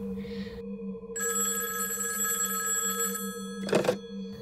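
A mobile phone rings with a steady electronic ringtone that holds a repeating tonal pattern close by, and a brief rustling bump follows near the end.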